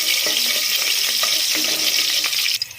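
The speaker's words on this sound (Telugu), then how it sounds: "2 కట్ చేసుకున్న పచ్చిమిర్చి, అలానే 2 ఎండుమిర్చి వీటిని కూడా మంచిగా ఫ్రై చేసుకోవాలి" Chopped green chillies, dry red chillies and a bay leaf fry in hot oil, a loud, dense sizzle with soft stirring knocks, ending in a brief quieter moment.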